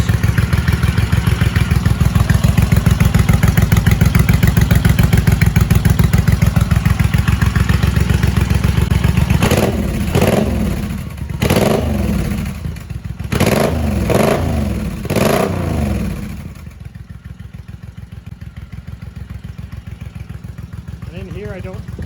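Suzuki M109R motorcycle fitted with quiet exhaust baffles, idling with a loud steady rumble, then several sharp throttle blips, then settling back to a softer idle.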